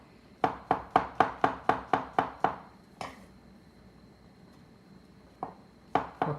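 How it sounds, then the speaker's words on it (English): Knife chopping leeks and mushrooms on a cutting board: a fast, even run of about nine crisp close knocks, a lone strike after a pause, then a few more chops near the end. "just chop it all up"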